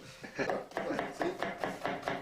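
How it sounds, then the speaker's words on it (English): A knife chops food in a kitchen with a steady run of about eight evenly spaced, fairly close strokes, each a short thud with a crisp edge, and no talking. "Chopping."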